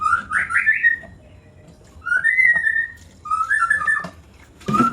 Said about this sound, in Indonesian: di rumah saya ini memang banyak burung, dan burung yang saya suka adalah burung murai batu